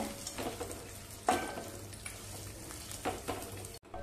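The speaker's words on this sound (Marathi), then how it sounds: "तुपावरती काजू आणि बदाम चांगले परतवून घेऊया।" Cashews and almonds frying in ghee, a soft, quiet sizzle with a few spoon scrapes and stirring bursts, cut off abruptly at the end.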